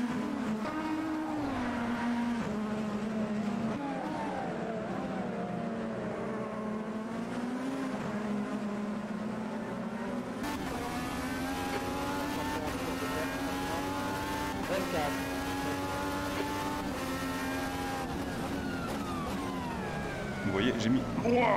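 Dallara IR18 IndyCar race car engine in the Automobilista 2 sim racing game, droning and rising steadily as the car accelerates through gears, continuous and loud for the whole stretch, with someone speaking over it.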